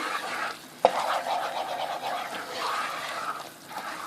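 Flour halva stirred in a pot on the stove, with a spoon scraping and swishing steadily through the thick mixture after a single sharp clink against the pot.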